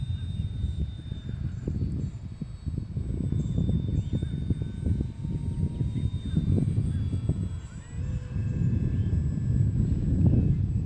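A small engine drones steadily, rising and falling as a model plane flies overhead, with low rumbling wind noise throughout.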